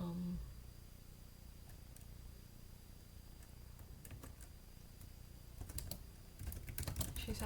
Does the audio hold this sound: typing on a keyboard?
yes